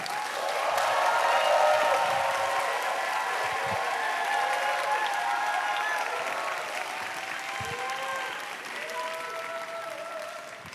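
A church youth congregation gives a long, loud round of applause as a company CEO comes up to speak, the clapping building and then thinning gradually, with scattered voices and cheers mixed in.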